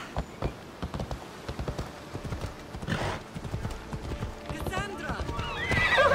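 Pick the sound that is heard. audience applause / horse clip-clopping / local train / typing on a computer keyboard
horse clip-clopping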